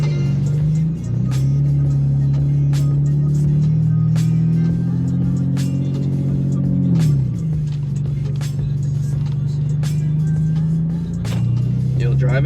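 Subaru STI fitted with Varis parts driving on a highway, its engine droning steadily and loudly throughout with rising and falling pitch as it accelerates and shifts, with scattered knocks and bumps over the road.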